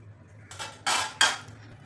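Kaju katli mixture is scraped from a pan onto a plate greased with ghee, giving a few sharp metallic scrapes and clinks in quick succession against a quiet kitchen background.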